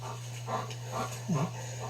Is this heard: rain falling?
no